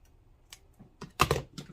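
Scissors snipping craft material while shaping a no-sew Valentine gnome, a few quick close cuts clustered together after a short pause, fairly quiet in a still room.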